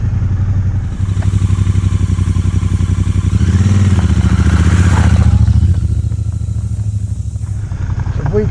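A motorcycle rides along on the open road, its engine a steady, close rumble that swells briefly mid-ride with a rev and wind rush before settling back to cruising.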